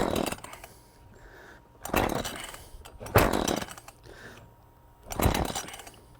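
A 30 cm gasoline chainsaw engine coughs and sputters in three or four short bursts, each dying away between pull attempts.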